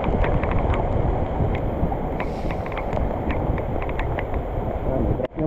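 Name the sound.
wind blowing outdoors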